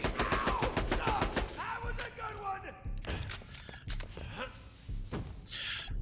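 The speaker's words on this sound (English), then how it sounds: "So that is Vladof Snipers." Vladof sniper rifles fire in Borderlands The Pre-Sequel, a string of sharp, loud shots at an uneven pace, mixed with other game effects and voice-like sounds.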